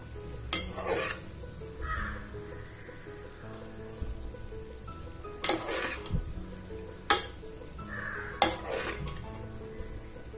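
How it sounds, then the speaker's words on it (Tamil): Stirring vegetable dum biryani in a pot: a few distinct scraping clinks of a spoon against the pot at irregular intervals over a low, steady background hiss, with no talking. "இப்போ நான் வந்து லைட்டாக ஒரு மிக்ஸ் கொடுக்குறேன்."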